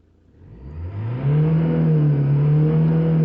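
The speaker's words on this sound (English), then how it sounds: "we'll just start the car and run it for 5 minutes" A Vauxhall Insignia engine cranks and catches after a new DPF pressure sensor is fitted, rising quickly in pitch and volume, then settles into a loud, steady running hum close by.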